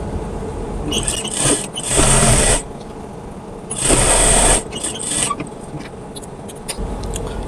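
A sewing machine stitches a kameez seam in two distinct loud runs of fast mechanical whirring, separated and followed by quieter handling noises.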